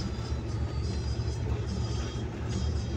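A car's engine, a 300 model, rattles loosely like a noisemaker, a steady broadband rumble with continuous clatter throughout, close and fairly loud with no voices.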